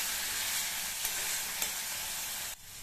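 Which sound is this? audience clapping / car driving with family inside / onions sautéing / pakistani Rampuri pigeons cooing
onions sautéing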